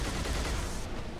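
Rapid sustained machine-gun fire from a Covenant shade turret in Halo 2, a dense continuous burst filling the whole moment with no talk.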